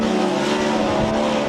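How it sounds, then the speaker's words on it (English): An RTR Ford Mustang drift car at Irwindale during qualifying, its exhaust a loud, steady, buzzing engine drone at high revs, close and unbroken for the brief moment. "Listen to that exhaust note."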